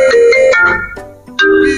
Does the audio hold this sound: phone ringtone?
yes